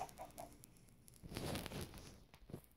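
Short clucking bursts from a chicken in a survival video game, a few quick faint clucks at the start followed by softer scuffling, patter-like game noise.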